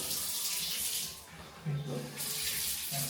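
Shower running in a newly turned-over house, a steady hiss of spraying water that dips briefly in the middle, with faint low bumps and no talk over it.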